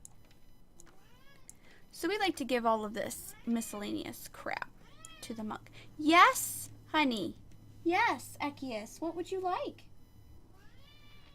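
A pet cat meows repeatedly, several drawn-out, wavering cries spaced across the middle, loud and close, while someone talks softly to it between and over the calls.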